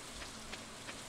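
Heavy rain pouring down in the farming game Stardew Valley, a soft steady hiss of downpour with a few faint splashy accents, quiet and continuous with no talking.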